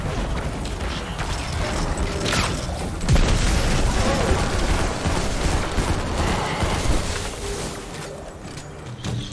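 Enemies blowing up in the video game Destiny, a dense mix of booms, gunfire and mechanical clatter at steady high loudness throughout, with a speaking voice in places.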